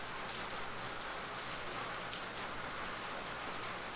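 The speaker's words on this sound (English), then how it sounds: "It's raining." Steady rain falls in a broad, even hiss throughout, wind-driven and close, with no talk over it.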